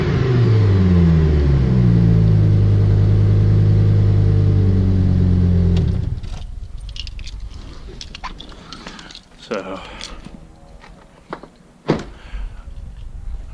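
A 2004 Chevrolet Colorado with about 92,000 miles: its engine idles loudly and steadily up close for about six seconds, then stops, leaving quieter handling noises and a voice.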